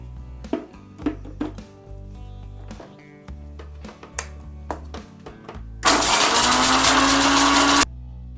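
A kitchen mixer grinder whirs loudly through whole spices for biryani for about two seconds, preceded by clinking taps and knocks of the jar and lid being handled nearby.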